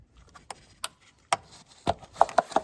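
Electrical connectors being unplugged from the ignition coils of a 2022 Acura MDX during a spark plug change: several sharp plastic clicks at irregular intervals, close-up and fairly quiet, with no talking.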